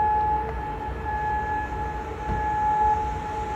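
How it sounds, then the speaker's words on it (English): Steady, sustained air raid siren tones wail across Kuwait City over a low rumbling background, continuous and fairly distant, with no voices. "sirens sounded across Kuwait City"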